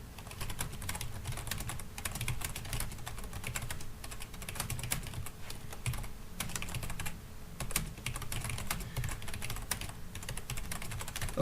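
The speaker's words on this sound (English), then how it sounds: "And keep typing." Rapid, steady keyboard typing, close and fairly quiet, with keys clattering in an even stream.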